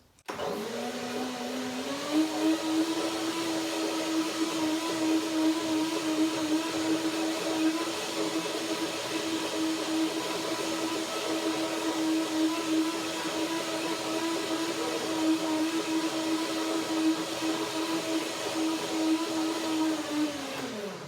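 A blender mixes fruit and Brazil nut cream, running continuously with a loud, steady whirring motor that spins up at the start and winds down at the end.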